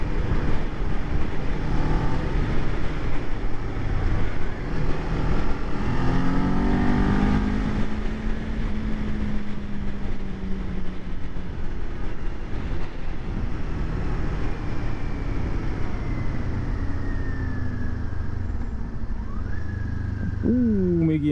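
A 2022 Kawasaki Z400 motorcycle engine drones while riding, with the pitch climbing and falling through gear changes and a whistling sweep near the end, all under wind rush.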